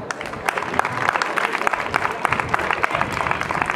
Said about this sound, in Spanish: El último aplauso para esta gente.